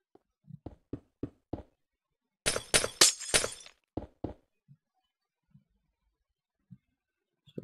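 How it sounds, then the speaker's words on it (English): Glass blocks shatter in Minecraft in a series of sharp, crisp breaking crashes clustered in the middle, framed by scattered clicky block hits and soft thuds, with no talking. "Love the sound of breaking glass."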